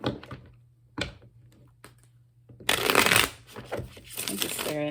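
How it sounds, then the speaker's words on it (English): Rider-Waite tarot cards are handled quietly with a few soft taps, then riffle-shuffled in a crisp, loud burst that returns as a second flurry near the end. "I want to open with the Rider-Waite Tarot today for Leo."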